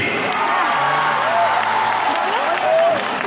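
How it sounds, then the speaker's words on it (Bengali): A large audience claps loudly together at a public event in Serampore, sustained dense applause with crowd noise and a few voices calling out over it. "শ্রীরামপুর সবাই মিলে একটা জোরে হাততালি হয়, হাততালি চাই"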